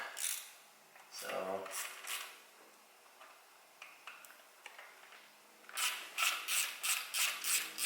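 Ratchet tightening a spark plug on a 2008 Nissan 350Z HR engine: scattered clicks at first, then a steady run of rhythmic ratcheting strokes near the end, close and clear, with faint background sound between.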